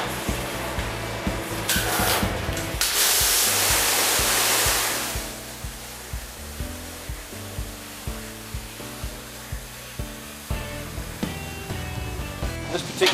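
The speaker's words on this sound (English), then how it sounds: "So what I'll do now is I'll just pressure clean it to remove any residue of flux." A pressure washer sprays flux residue off a honeycomb radiator core built for a 1929 Buick, with a loud, rushing hiss for about two seconds. A quieter hum and steady rhythmic knocking follow.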